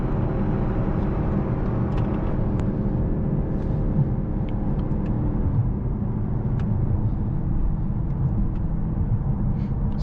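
A 2024 Mercedes-AMG S63 sedan with its 800 hp V8 pulls hard in first gear, a deep, continuous engine roar and rumble heard from inside, steady and loud throughout with no talking.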